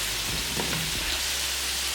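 Breakfast potatoes sizzling steadily in a pan, with a few soft scrapes and taps as a spatula lifts and turns them; continuous hiss with no talking.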